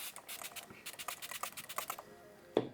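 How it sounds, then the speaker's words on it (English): A short, sharp spritz from a spray bottle misting a face near the end, following a stretch of quiet clicking and light handling noises. "spray the living heck out of my face"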